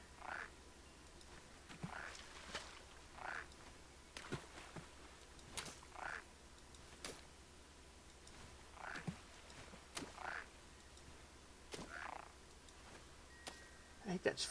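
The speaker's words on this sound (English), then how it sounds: "I think that's frog I hear." Frog croaks at intervals in a spring outdoor setting, short soft calls recurring every second or two against a faint quiet background with occasional clicks.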